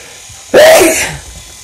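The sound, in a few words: dog sneezing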